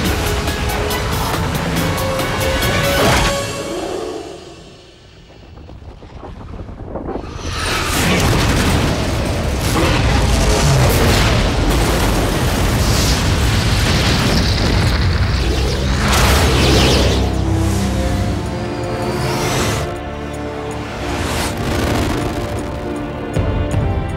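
A missile detonation in an action film, heard as loud, sustained booming and roaring rumble that dips briefly and then swells into a continuous thunderous blast with crashing debris-like bursts.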